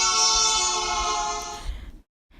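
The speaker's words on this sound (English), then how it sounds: "Say that you are standing in the middle of a road as a car drives by and honks its horn." A car horn sounding steadily as the car passes by on a road, holding one loud harmonic tone for under two seconds before it cuts off.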